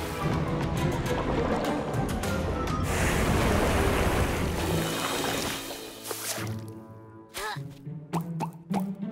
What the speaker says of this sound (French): On dirait une sorte de fontaine ou un ruisseau ou une inondation.